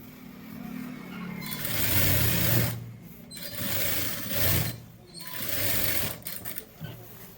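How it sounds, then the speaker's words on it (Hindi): Sewing machine stitching a pant pocket runs in three loud, steady bursts of fast mechanical whirring, close up, with brief pauses between runs and no talking over it. "इधर से स्टार्ट करेंगे सिलाई यहाँ से"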